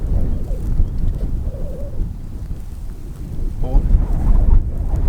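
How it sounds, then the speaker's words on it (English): Wind gusting over open water from a bass-fishing boat, a steady low rumble buffeting the microphone throughout, with a voice speaking briefly underneath. "It's windy."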